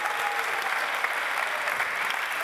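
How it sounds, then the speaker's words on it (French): A conference audience at an awards evening gives continuous, even applause, a dense close patter of many clapping hands with no talk over it. "Je vous demande de les applaudir un peu plus fort"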